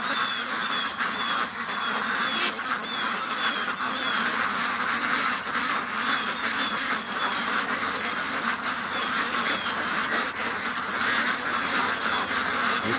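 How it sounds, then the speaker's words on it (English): A flock of agitated ducks quacks nonstop, loud and close, with overlapping calls and honks layered into a continuous noisy chorus. "The ducks are getting upset."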